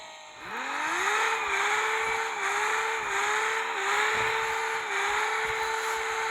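Toyota Supra engine in a driving video game, revving up and holding a steady high-pitched whine with slight pitch wobbles as the car drifts, loud and continuous with no talking.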